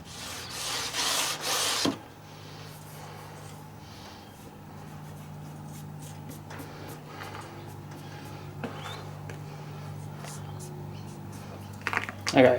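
A vintage guitar fretboard bought on eBay is sanded by hand to clear leftover glue. Quiet, steady rubbing strokes follow a brief louder burst of scraping at the start.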